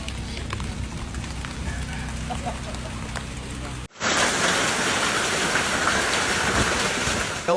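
Heavy rain pouring during a thunderstorm in Tallahassee, a dense continuous hiss that jumps louder partway through as the downpour intensifies, with voices faintly mixed in earlier.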